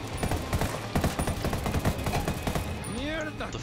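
Rapid automatic gunfire in Ghost Recon Wildlands, a dense rattling burst of close shots firing in quick succession, with a voice briefly speaking during it.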